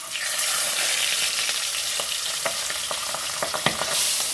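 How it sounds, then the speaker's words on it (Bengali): Pabda fish coated in turmeric and salt frying in hot oil, a loud, dense continuous sizzle with sharp spitting pops and crackles scattered throughout. "এগুলো কিন্তু আমি এক এক করে ছেড়ে দেবো।"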